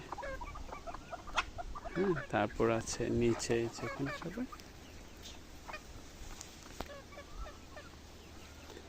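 Chickens cluck on a small farm on a local island in the Maldives, their calls scattered and moderately close while someone talks over them for the first few seconds, then continuing more faintly.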